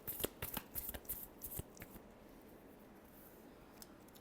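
Hands shuffle a tarot deck in a quiet room, a quick flurry of soft papery flicks and taps that fades into near silence.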